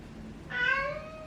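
A pet cat gives a single short, rising meow, fairly close and clear over a quiet background room.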